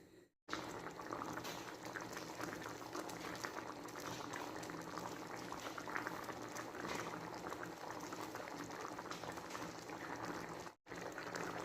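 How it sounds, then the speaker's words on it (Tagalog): Chicken simmers in a coconut milk stew for ginataang manok, a steady, close, dense bubbling boil that runs unbroken except for a brief drop near the start and another near the end. "pakukuluan natin siya mga ka-recipe hanggang sa maluto yung ating chicken"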